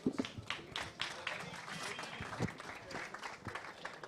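Applause for Riccardo at an amateur football gala in Italy: scattered, uneven clapping with distinct individual claps and taps, fairly quiet, and voices murmuring through it.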